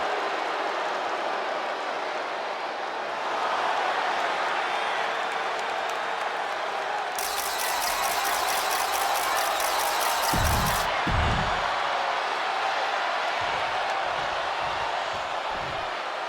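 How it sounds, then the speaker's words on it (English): Wrestling crowd in the WWE 2K25 video game gives a home-town welcome, a dense continuous roar of cheering and applause throughout, with a bright burst partway through and thumping hits near the end. "Tiffany Stratton getting a warm welcome from this home crowd."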